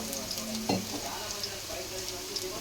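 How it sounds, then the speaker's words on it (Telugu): Finely chopped garlic frying in hot oil for paneer manchuria, a steady close sizzle with a few soft stirring scrapes and a brief clatter near the start. "ఇప్పుడు మనం సన్నగా కట్ చేసుకున్న గార్లిక్ వేసుకుందాం. ఇది కొంచెం అలా ఫ్రై అయినాక"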